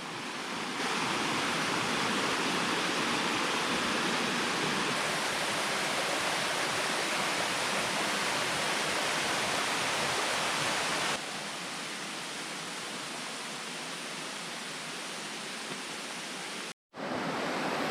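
The Szepit waterfall on the Hylaty stream in the Bieszczady mountains roars as a steady, dense rush of falling water, loud and unbroken throughout, easing slightly toward the end with no voices.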